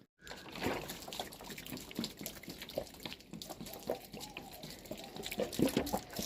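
Water is poured onto garden plants in the morning, a soft, uneven trickle and splash running steadily, fairly quiet and close.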